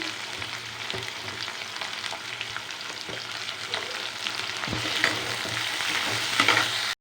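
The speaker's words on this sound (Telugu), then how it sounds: "ములక్కాయలు ఆనియన్స్ కొంచెం ఫ్రై అవుతున్నాయి కదా" Drumsticks and onions fry in a pan with a dense, close sizzle that grows slightly louder over time, dotted with occasional soft stirring scrapes, until it cuts off abruptly.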